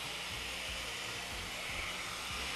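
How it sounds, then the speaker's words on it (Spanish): A blender runs steadily, blending a tequila sour with tamarind and egg white, giving a continuous loud motor whir with faint churning pulses underneath. "Esto lo vamos a licuar."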